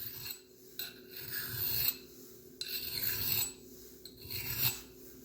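A steel file rasps across a knife blade in about four separate strokes with brief pauses between them, a dry, gritty scraping heard close and alone.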